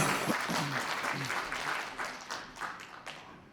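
Audience applause welcoming a city council chairman at an integrity award ceremony and special lecture, a dense, steady round of clapping that lasts throughout and tapers slightly toward the end.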